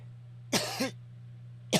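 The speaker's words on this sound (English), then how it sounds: "I've been coughing like crazy all day." A man coughs sharply twice, close to the microphone, with a short throat-clearing rasp after the first cough, over a faint steady electrical hum.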